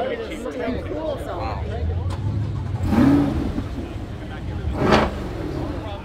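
Mid-engine Chevrolet C8 Corvette convertible engine revving amid a crowd, two short rises in engine roar standing out above steady idle and babbling voices nearby.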